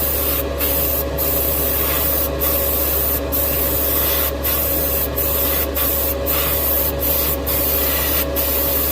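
A spray gun lays a coat of paint on a 1969 Dodge Charger R/T, producing a loud, continuous close-up hiss broken by brief regular pauses between passes.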